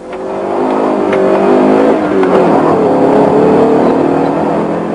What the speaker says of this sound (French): L'Alpha Sud a pris la première le départ.